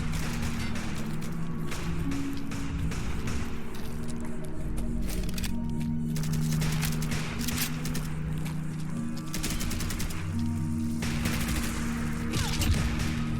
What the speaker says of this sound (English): I can only hear some gunfire.